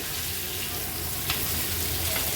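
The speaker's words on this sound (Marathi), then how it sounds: "एक बाजू आपण फ्राय करून घेणार आहोत मीडियम फ्लेमवर" Large pieces of ribbon fish fry in a pan over a medium flame, giving a dense, continuous sizzle heard close up, with no speech.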